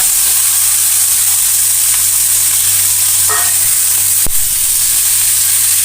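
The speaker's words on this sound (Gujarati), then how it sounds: "રાઈ ફૂટી ગયા બાદ આખું જીરું નાખશું ત્યારબાદ હિંગ નાખવાની છે હળદર નાખશું લાસ્ટમાં ગુંડા" Mustard seeds, cumin, asafoetida, turmeric and gunda fry in hot oil with a loud, constant close sizzle, broken by a few light stirring clinks and one sharp knock.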